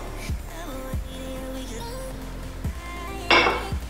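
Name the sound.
mixing flour, sugar, flaxseed in bowl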